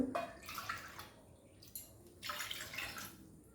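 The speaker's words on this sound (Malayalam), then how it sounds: "ഒന്നര കപ്പ് വെള്ളം ഒഴിക്കാം" Water is poured from a cup into a pot for cooking noodles, arriving in two splashing bursts separated by a short pause, fairly close and moderately loud, with no talking.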